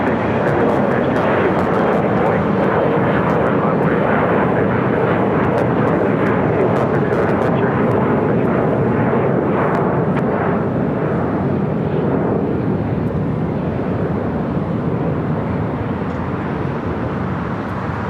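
An airliner takes off from runway 25 Right at Los Angeles International Airport, its jet engines producing a loud, steady, continuous roar that holds throughout.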